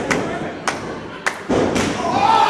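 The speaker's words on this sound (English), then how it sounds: "We could hear the impact of that kick all the way up here in the booth." A kick lands in a pro wrestling match, heard as sharp thuds with one heavy slam, rising over the muffled crowd noise and the commentary in the arena.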